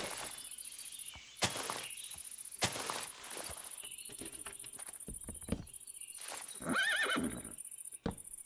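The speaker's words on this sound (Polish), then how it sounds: "Co rżysz?" Horse in a video game neighs with a loud whinny near the end, over a steady background of crickets and faint clip-clop hoofbeats, with no talking.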